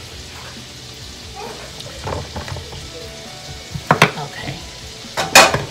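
Vegetables fry in a pan with a steady low sizzle, interrupted near the end by a few sharp utensil clinks and scrapes. A person speaks briefly.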